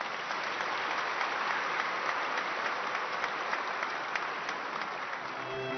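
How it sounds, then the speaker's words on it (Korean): Audience at a Trade Day awards ceremony applauding traders, a continuous even roll of many hands clapping at moderate distance, steady throughout with no speech over it. "우리 모두 격려의 박수 다시"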